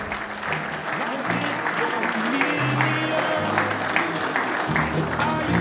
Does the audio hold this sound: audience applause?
yes